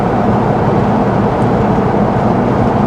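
A Honda S2000 cruises at 60 to 70 mph, and a steady, even rush of engine, exhaust and road noise fills the cabin without rising or falling.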